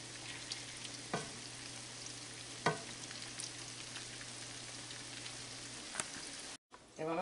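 Green bean patties fry in oil with a steady close sizzle and crackle, interrupted by a few sharp scraping knocks as the patties are turned. The sound cuts out briefly near the end before the sizzle returns.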